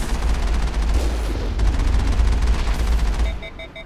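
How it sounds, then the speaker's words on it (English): Sustained heavy cannon fire from the Mako vehicle in Mass Effect rumbles as a continuous booming barrage, then cuts out into a few short high beeps as the guns overheat. "I overheated my guns."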